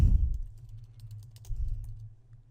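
Rapid keystrokes on a computer keyboard while typing out a year, a quick run of light clicks close by with a low hum underneath and no voices.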